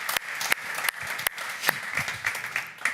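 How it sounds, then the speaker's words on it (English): Applause at a basketball Champions League live draw event, moderately quiet clapping from a small audience with a few sharp, distinct claps standing out over the steady patter. "Please give him a big round of applause."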